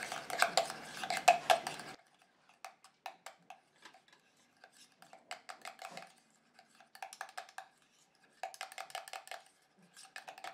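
Deodorant mixture stirred in a small container, a utensil clinking and scraping against the sides in repeated bursts with short pauses, louder at the start then lighter taps.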